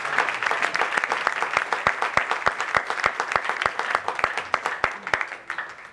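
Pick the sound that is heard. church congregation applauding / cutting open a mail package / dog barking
church congregation applauding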